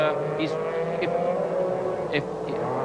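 MG Metro 6R4 race cars roar past at the Birmingham Superprix street circuit, a steady loud engine drone throughout with a commentator talking over it.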